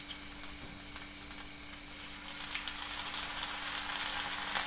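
Oil added to tur dal kondale frying in a covered pan in a home kitchen, a soft steady sizzle that swells gradually, with no voices.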